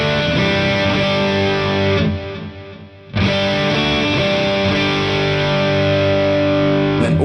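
A distorted electric guitar plays through a Kemper amp modeler with its space output setting switched off, giving dry, sustained chords with a brief gap in the middle.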